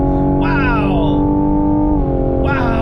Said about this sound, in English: that is strong acceleration from this turbocharged, twin turbocharged 3-liter V6